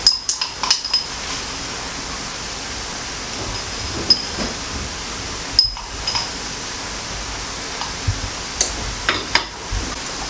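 Beef is mixed with starch in a bowl, giving soft scraping and occasional light clinks of utensil against the dish, scattered irregularly over a quiet background with no talking.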